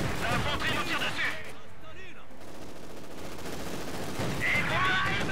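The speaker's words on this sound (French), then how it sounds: "L'infanterie nous tire dessus." Infantry gunfire in Company of Heroes 2 in a snowy battle: dense, steady rattles of rifle and machine-gun fire that ease off briefly in the middle, then return loud, mixed with game voice chatter.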